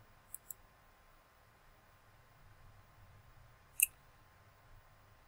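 Computer mouse clicks while navigating a website, two quick faint clicks followed a few seconds later by one louder click, over quiet room hiss.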